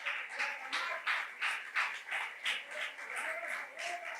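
A church congregation claps at a worship service, a quick run of sharp, rhythmic hand claps swelling and fading together, fairly distant and reverberant, with no talking over it.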